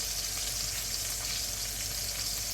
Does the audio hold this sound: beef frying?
yes